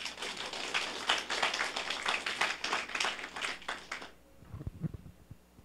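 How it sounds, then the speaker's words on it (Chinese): Audience applause from a Taiwanese government senior administrative seminar's closing ceremony, a dense burst of many hands clapping for about four seconds, then cutting off to quieter room noise with a few faint taps. "感谢大家，我甲你鼓掌一下。"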